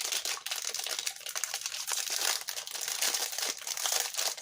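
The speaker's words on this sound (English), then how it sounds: "Sorry for the crinkling." Plastic packaging crinkles and rustles continuously and up close while a subscription box is unboxed, a dense crackling texture with no voices.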